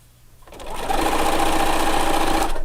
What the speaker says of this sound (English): I'll pivot and continue sewing 1/4 inch until I get to that mark that I made